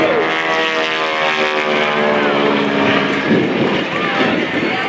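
A steady, loud propeller airplane engine drones through an aerobatic spin at an airshow, its whining tones shifting in pitch against heavy wind rush, with a voice talking over it.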